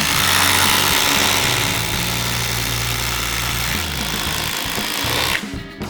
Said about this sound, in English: The best DeWALT impact driver you've never heard of.